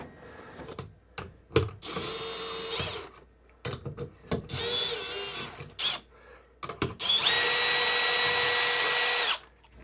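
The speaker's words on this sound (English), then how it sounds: "I do not recommend using a drill or an impact for these, but that's what I'm using" A power drill driving the bolts on inverter and bus bar cable terminals in an off-grid container battery setup, in short whirring bursts with ratcheting clicks, ending in one longer high-pitched run.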